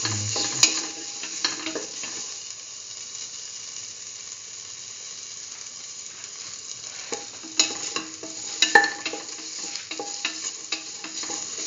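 A cauliflower and chayote rice mixture sizzles in a pan while a utensil stirs and scrapes it in bursts, with quieter frying stretches in between and no talk.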